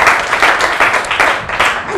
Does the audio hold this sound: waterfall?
no